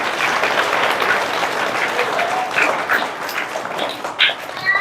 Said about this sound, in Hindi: जोर से ताली बजाओ फिर।